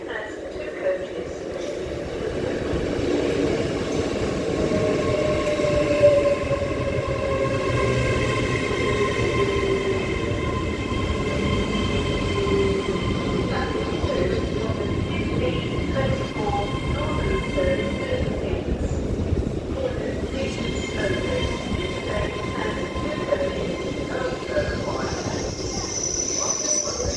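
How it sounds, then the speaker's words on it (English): A two-coach Northern train pulls into platform 2 at Wakefield Westgate station, a steady rumbling roar that holds for nearly half a minute with faint high wheel tones above it and no voices. "The next train to arrive at platform 2 will be the 1524 Northern service to Leeds."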